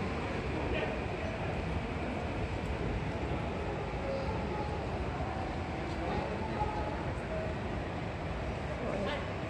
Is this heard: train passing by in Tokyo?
yes